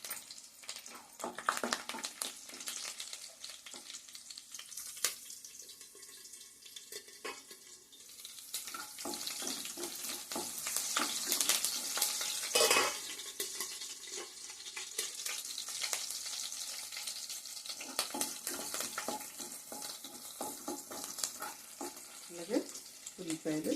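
Green chillies frying in hot oil in a pan while being stirred, cooking for a goat head curry. A crackling sizzle runs throughout, broken by scraping stir strokes and a louder burst midway, with no talking.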